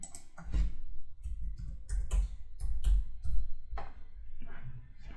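Typing the plugin name WPvivid on a computer keyboard produces a run of irregular key clicks and taps in quick succession, moderately close.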